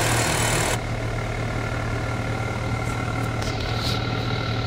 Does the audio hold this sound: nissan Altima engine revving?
yes